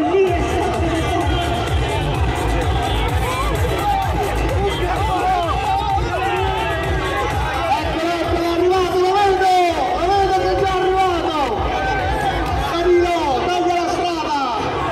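A dense crowd packs the Rimini Wellness fitness fair, a continuous loud hubbub of overlapping voices, chatter and occasional shouts filling the hall without a break.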